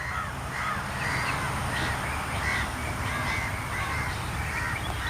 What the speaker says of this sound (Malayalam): കാക്കാക്കൂട്ടും ചുറ്റും പറന്ന് കളിക്കണോ?